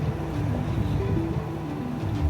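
A sailing boat motors along under engine power at about 2,000 RPM, with a steady low drone and hum, a constant rushing wash of water and wind over it, and no talking.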